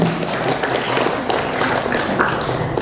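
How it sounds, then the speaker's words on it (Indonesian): An audience claps at a motivational talk in Indonesia, a dense, continuous patter of many hands throughout the short stretch, fairly close and even in loudness. "Tepuk tangan untuk Mas Muhaimin"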